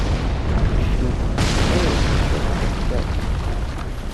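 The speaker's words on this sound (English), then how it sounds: "I forgot to mention the massive giant ballista rocket" A huge ballista rocket blasts in Dark Souls III, a loud, dense, rumbling explosion that swells abruptly partway through and sustains, with a voice talking underneath.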